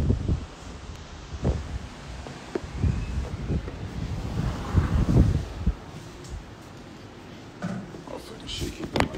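Outdoor wind in Cancun gusts and rumbles against the microphone in uneven bursts, with someone talking loosely over the blustery noise.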